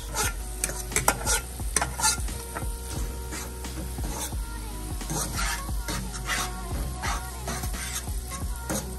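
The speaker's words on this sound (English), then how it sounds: "I'm gonna let the fish saute in this" Salt fish and frozen okra sauté in coconut cream in a pot with constant stirring, giving busy rhythmic scraping and clattering over a low bubbling sizzle that carries on throughout.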